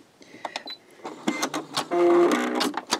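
A sewing machine stitches a short back stitch on a quilted key fob, close-up, with quick mechanical whirring bursts and clicks, ending in a steady run of rapid stitching.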